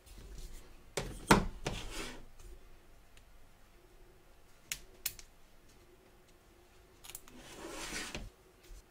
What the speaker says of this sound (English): So turn your hoop over and cut away, taking care not to cut your stitches.